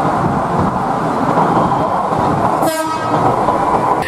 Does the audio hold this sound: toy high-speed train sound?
yes